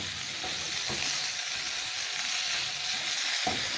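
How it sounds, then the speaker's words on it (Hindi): Red, yellow and orange bell peppers sizzle in a pan over medium flame while being stirred, a steady close frying hiss with a few soft scraping strokes and no talking. "अब इसमें रेड, येलो और ऑरेंज बेल पेपर्स भी शामिल कर देंगे। इसे भी मिक्स कर देंगे।"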